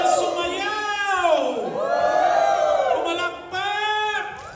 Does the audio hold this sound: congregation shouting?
yes